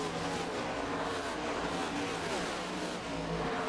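Race cars roar past on a Texas racetrack during a Cup Challenge event in a loud, steady, dense wash of engine noise with no talking.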